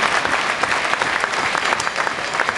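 An audience at a chefs' show claps, a dense, even burst of applause from a sizable crowd that fills the short stretch at steady loudness, with no voices standing out.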